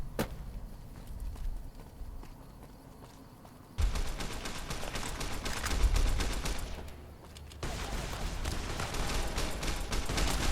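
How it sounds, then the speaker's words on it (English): A firefight in the video game Fallout New Vegas between the NCR and the Fiends, with dense, rapid crackling gunfire bursts and loud sustained volleys that keep stopping and restarting. "we've got a big firefight here"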